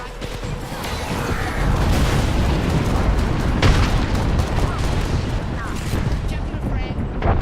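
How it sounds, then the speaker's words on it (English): Airstrike explosions in a first-person shooter game, a dense, continuous rumble of booming blasts and gunfire-like bursts that stays loud throughout, with a voice talking over the din. "Airstrike."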